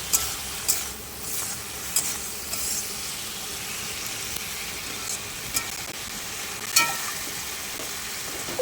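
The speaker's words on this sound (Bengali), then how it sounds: "চিংড়ি মাছ বেশি ভাজবো না, একদমই হালকা ভাজবো।" Shrimp frying lightly with a little turmeric in a pan sizzles loudly and continuously, broken by repeated scraping and stirring strokes from a utensil, all close by and with no talking.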